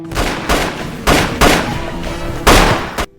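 Five sharp gunshots fired in an uneven sequence, each a loud, booming crack with a short decaying tail, spaced roughly half a second to a second apart.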